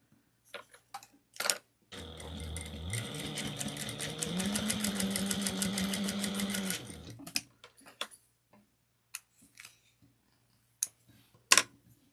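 A sewing machine topstitches a fabric wristlet at an eighth of an inch, running as one steady mechanical whir for about five seconds that rises slightly in pitch partway through, with faint clicks and handling noises before and after.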